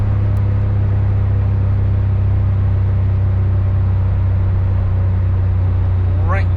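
Straight-piped exhaust on an Autozam AZ-1 kei sports car held steady at about 4,000 RPM, a loud constant droning note that stays even throughout with no voices.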